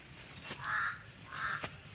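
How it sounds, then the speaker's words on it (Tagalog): A crow caws twice in quick succession, two harsh, fairly loud calls standing out over a steady background hiss. "Tingnan nyo, napakatapang ng uwak."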